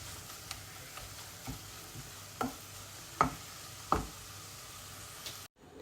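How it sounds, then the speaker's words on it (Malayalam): A mushroom thoran, a Kerala stir-fry, being stirred in a pan, heard as a few soft scraping strokes over a faint background sizzle, close by and quiet, with no talking. "എന്നിട്ടൊന്ന് ഇളക്കി കൊടുക്കാം"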